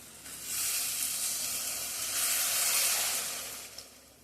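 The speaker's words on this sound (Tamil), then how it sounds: "இப்போ கொஞ்சம் தண்ணி ஊற்றிக்கலாம்." Water poured into a pan of sizzling egg gravy masala sets off a loud, broad steaming hiss that swells, holds for about three seconds and then eases off, close and alone with no talking.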